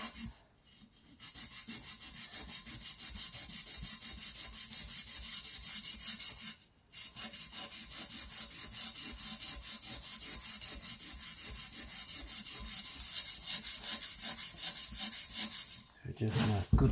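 A brush scrubs the inside of a wheel rim coated with WD-40, giving rapid rhythmic rasping strokes, close and continuous, with a couple of brief pauses.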